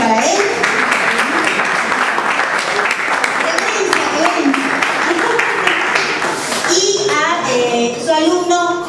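Audience applause for a singer at a school arts event, steady clapping mixed with voices and children talking, continuing throughout at a fairly loud, close level.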